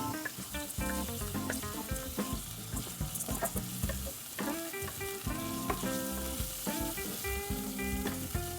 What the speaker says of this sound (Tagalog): Susutay lang natin siya dyan.